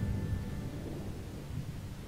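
Rain with rumbling thunder from The Sims game, a steady dense hiss of rainfall over a low continuous rumble, with no voices.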